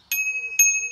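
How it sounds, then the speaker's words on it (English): The small bell on a Tenways CGO800S e-bike gives two quick, clear metallic dings about half a second apart, each ringing out briefly, close up and alone. "There's a little bell."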